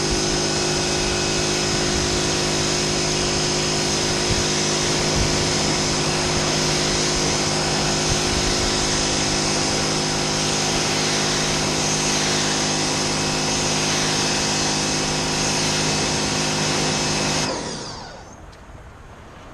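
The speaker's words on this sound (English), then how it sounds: "Now that we have the tire all scrubbed up, take a pressure washer to it." A pressure washer runs with a loud, steady hiss and motor whine as it sprays an off-road tire, holding constant for about seventeen seconds before cutting off abruptly into quiet.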